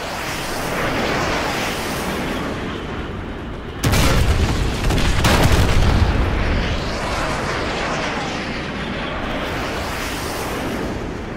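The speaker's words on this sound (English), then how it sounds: "Fire mission received. Artillery inbound." Artillery strike explosions in Modern Warfare 2 Remastered: a heavy booming blast erupts about a third of the way in, with further rumbling impacts layered over a constant roar of battle noise.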